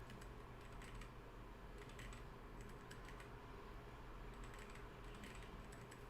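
Rapid, uneven computer keyboard typing in quick bursts, close by, over a low steady background hum.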